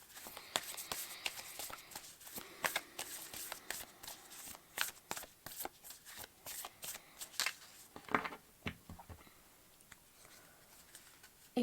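Moonology oracle-style tarot cards are shuffled by hand in a long series of crisp, close slaps and flutters that come in uneven bursts, with a brief pause before the shuffling picks up again.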